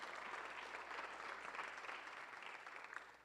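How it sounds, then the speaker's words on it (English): Audience applause at a community forum held in a church, steady dense clapping filling the whole stretch at a fairly faint, distant level, with no voices standing out. "So if you guys can give them a round of applause"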